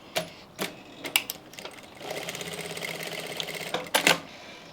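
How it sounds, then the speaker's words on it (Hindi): An electric sewing machine stitches cloth strips together for a Haryanvi daman skirt, starting with a few short bursts and then running in a steady rapid whir before stopping with more brief bursts. "इस तरीके से पट्टी के ऊपर पट्टी को रखेंगे और यहाँ से सिलाई लगा लेंगे।"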